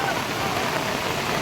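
Heavy rain pours over the Har Ki Pauri ghats in Haridwar as a dense, steady hiss of water, loud and unbroken, with no distinct drops standing out.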